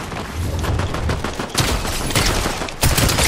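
Shotgun blasts in a video game crack out in a dense, noisy burst of gunfire, with sharper loud reports standing out near the middle and end.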